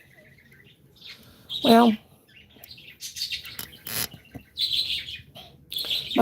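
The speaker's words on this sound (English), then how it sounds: "my birds are having a good time." Pet birds chirp indoors in short scattered bursts of tweets, with a person talking softly in between.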